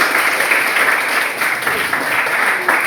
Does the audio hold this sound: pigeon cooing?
no